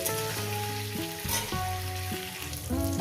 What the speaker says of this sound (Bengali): এটাকে আমি চার মিনিটের মতো ভেজে নেব